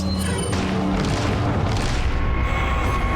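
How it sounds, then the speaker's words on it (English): A rocket launcher fired in a Resident Evil game lets out a loud, heavy boom that fills the clip with dense rumbling blast noise. The roar stays strong and sustained before thinning slightly near the end. "Pharaoh shooting the final rocket launcher right there for Maida"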